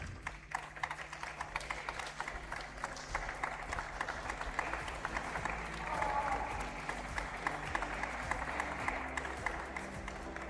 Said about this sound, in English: And now, please, a warm applause for the team of Czech Republic.